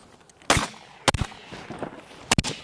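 Shotguns fire at mallard drakes during a duck hunt in a corn field, with three loud, sharp blasts spaced about a second apart, one of them a quick double, and faint rustling between the shots.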